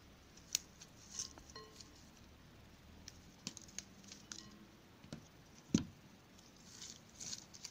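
Scissors snip through old phalaenopsis orchid roots, a series of sharp, quiet clicks and crunchy cuts spaced irregularly, close up with faint rustling between them.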